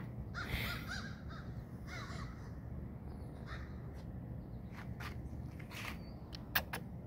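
Crows caw repeatedly in a park, with several harsh calls at moderate distance over a low outdoor rumble and a few sharp nearby ticks.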